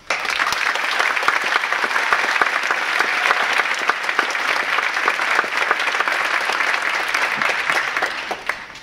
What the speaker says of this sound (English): Let's have a warm round of applause for Mariana Camaño and Kessel John.